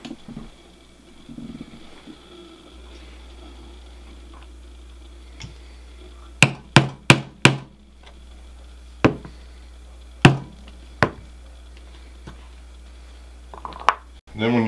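Sharp punching taps into leather for a skillet hot handle, about eight distinct knocks in a quick cluster then a few spaced strikes, close and clear over a low steady hum.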